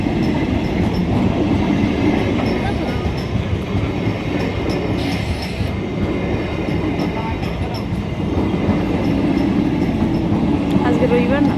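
A train rolls past on a railway line in a continuous loud, dense rumble with clattering wheel noise for the full length, nearby and steady.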